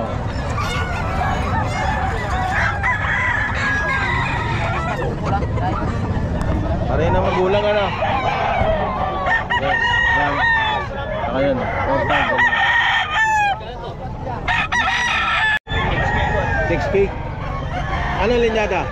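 Tornado hatch roosters at the Bocaue pet market crowing repeatedly, several birds overlapping near and far, with clucking among them and steady crowd chatter and talk underneath.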